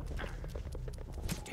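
A horse's hooves clip-clop steadily in the video game Sacred, a quick even rhythm of close, moderately loud hoofbeats over a low ambient game background.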